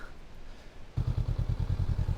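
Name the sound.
motorcycle setting off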